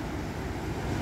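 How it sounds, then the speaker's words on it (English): Big ocean waves break near Kuta in Bali as a steady, dense rumble of surf mixed with wind buffeting the microphone, continuous and fairly loud, with no speech. "apparently these are the biggest waves in Bali"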